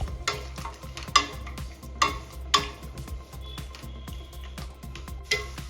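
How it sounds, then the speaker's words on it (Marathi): Raisins, charoli, almonds and coconut roast in ghee with a soft continuous sizzle, punctuated by several sharp spoon scrapes and taps against the pan at irregular intervals. "आता हे सर्व साहित्य आपण तुपामध्ये छान भाजून घेणार आहोत"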